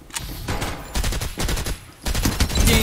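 Rapid bursts of video game gunfire come in three dense volleys, loud and close, like sustained automatic weapon fire with short pauses between the bursts.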